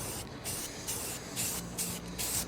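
Spray can painting a Thermodyne wind turbine bracket, several short bursts of hissing spray with brief pauses between them, close and fairly loud.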